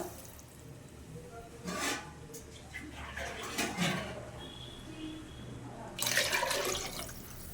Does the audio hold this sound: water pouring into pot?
yes